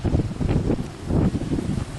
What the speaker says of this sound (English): It was an awfully windy day.